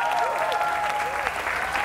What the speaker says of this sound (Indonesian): Tepuk tangan sekali lagi untuk Peter Vandel